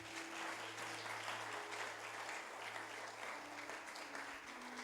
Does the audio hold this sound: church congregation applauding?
yes